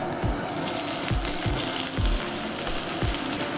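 Eggplant pieces fry in a pan on low heat with a steady sizzle, punctuated by several dull knocks as they are stirred.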